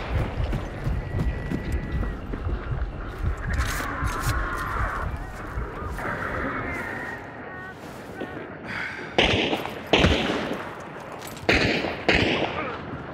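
Gunfire in a shooting game, several sharp cracks in quick bursts toward the end, following earlier clattering footsteps, mechanical noises and voices talking.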